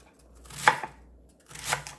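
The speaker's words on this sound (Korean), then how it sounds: "먹기 좀 크기로 썰어줍니다" A knife cuts through napa cabbage on a cutting board with two crisp, separate chops about a second apart, close and clear against near silence.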